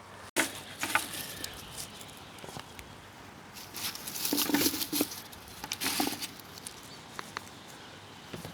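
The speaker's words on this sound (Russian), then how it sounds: "О, и дождь." Light rain patters in a vegetable garden, a soft irregular rustle of drops with a few louder taps and swells, close by and without talk.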